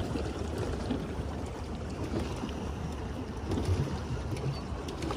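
Boat ride on Lake Zurich: a steady wash of water and motor rumble with wind noise, continuous and fairly close, with no talk.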